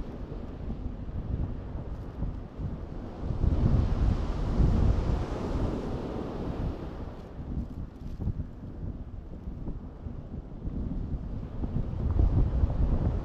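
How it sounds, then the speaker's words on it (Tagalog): Strong wind roaring and buffeting the microphone, surging louder in gusts over a constant low rumble, with water sloshing faintly beneath. "Sobra talagang lakas ng hangin."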